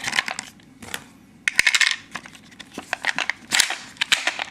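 Rounds clatter and click into a KCI 100-round firearm magazine in sharp, close bursts of metallic taps, with a few quieter gaps between clusters and no talking.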